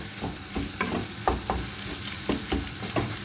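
Onion and garlic frying in a pan are stirred with a spatula: about a dozen rhythmic scraping strokes over a soft sizzle, close and clear, with no voices.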